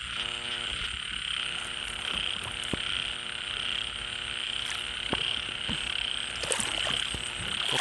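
Frogs croak in a dense, continuous chorus during the first rain of the year, loud and close, with overlapping pulsing calls and a hiss of rain filling the background throughout.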